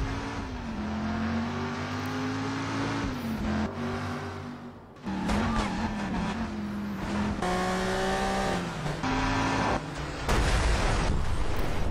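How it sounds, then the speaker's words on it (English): A 1970s Dodge Challenger R/T in the Driver San Francisco game, its V8 engine droning loud and close, rising and dropping in pitch through repeated gear changes and hard revving bursts, with brief breaks between surges. "he's driving his own car, 1970s Dodge Challenger RT"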